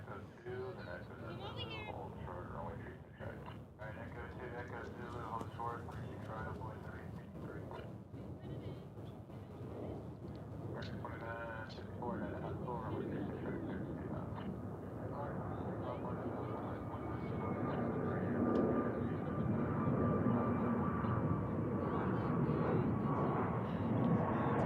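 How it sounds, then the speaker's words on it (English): A Spirit airliner takes off at Dallas Fort Worth International Airport, its distant roar swelling steadily louder toward the end beneath ongoing casual chatter. "Spirit is taking off."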